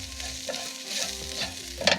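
Home-roasted, home-ground spice powder is stirred and roasted in a pan for a traditional Kerala Kuttanadan duck curry, a soft steady sizzle with light scraping strokes, close and alone.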